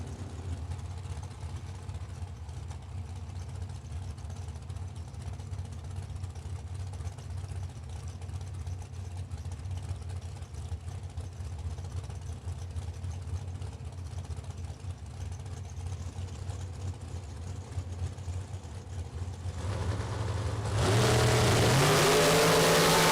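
Drag racing cars at a Super Pro event, a steady distant engine drone through most of the run, then a sudden loud close roar near the end as a dragster launches down the lane.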